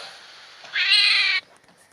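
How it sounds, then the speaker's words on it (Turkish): A pet cat lets out a single loud, drawn-out meow close to the microphone, rising out of a faint background hiss and then breaking off abruptly. "burada kedinin miskini sıkıştırıyordum miyavlaması için gizlice"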